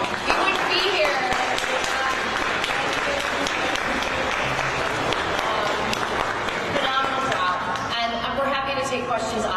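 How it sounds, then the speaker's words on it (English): A full round of applause from an audience at a community presentation, loud and continuous, with voices talking over the clapping. "Let's give a round of applause."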